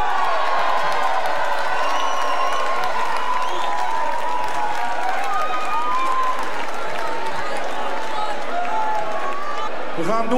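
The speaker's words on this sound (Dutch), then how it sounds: "Een groot applaus voor de bloembal." Applause and cheering for a flower float at a 2018 corso parade prize ceremony, a large outdoor crowd clapping and whooping continuously throughout, loud and sustained with voices mixed in.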